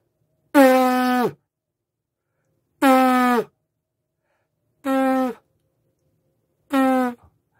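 Four loud, sustained trumpet note attacks, each about half a second to a second long, separated by silent pauses.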